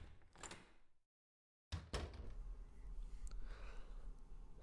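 A front door opens: one sharp thump after a brief silence, followed by a continuous rustling, creaking room noise nearby.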